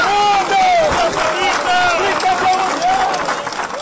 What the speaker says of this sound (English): adoring fans cheer for their captain one last time